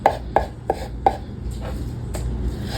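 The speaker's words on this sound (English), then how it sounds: "This knife is pretty good, but I think I'm cutting the wood in the bowl more" A knife chops tomatoes in a wooden bowl with about six crisp, evenly spaced thuds, close and clear, the later strikes softer, with a low kitchen hum behind and no talking.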